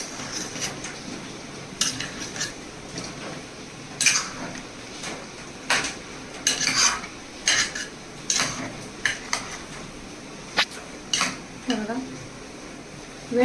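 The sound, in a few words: mixing stuffed eggplant in masala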